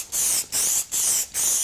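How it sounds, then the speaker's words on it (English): Q30 protective film aerosol sprays in four short, evenly spaced hissing bursts, loud and close with brief gaps between them. "You can spray Q30 straight onto the"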